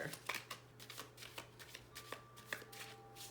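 Tarot cards riffle and flick in a series of quick, soft bursts, close by and fairly quiet, with a faint steady hum underneath and no voices.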